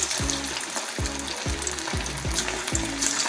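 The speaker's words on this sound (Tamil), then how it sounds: "இப்படியே ஒன்று ஒன்றா போட்டு பொரிச்சுக்கலாம்." Egg pieces for spicy egg chilli dropped one by one into hot oil to deep-fry, a continuous sizzle punctuated by about six bursts of bubbling as each piece hits the oil.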